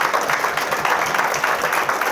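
Crowd at a hair salon company's strategy workshop applauds the head office team, a steady, close, dense clatter of many hands clapping without a break.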